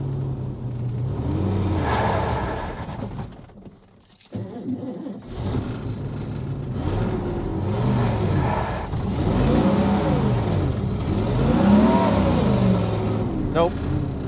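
Chevrolet El Camino engine revving repeatedly in a failed burnout attempt with a slipping clutch, rising and falling roars with a brief lull, while a person talks over it.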